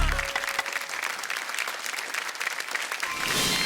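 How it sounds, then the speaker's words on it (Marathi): A studio audience at a Marathi television show claps in a brief burst of lively, sustained applause that stays fairly even throughout. "जोरदार टाळ्या."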